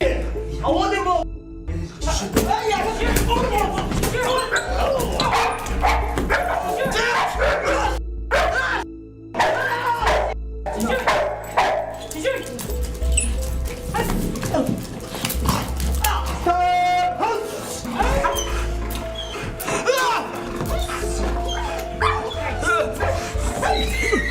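Several trained army K9 dogs bark and yip loudly and repeatedly in a chaotic burst, mixed with excited shouting voices throughout.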